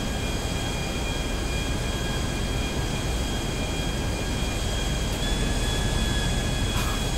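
A large, heavy Volatol aircraft flying in GTA V, heard as a steady, dense engine drone with a faint high whine that holds unchanged throughout, with no talk.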